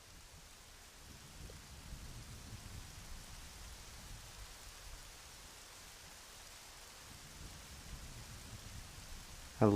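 Steady, even rainfall in The Legend of Zelda: Majora's Mask swamp hisses throughout, soft and constant, with a brief louder knock right at the end.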